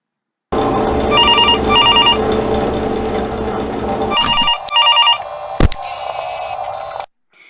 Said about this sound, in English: In the office, we can hear a phone.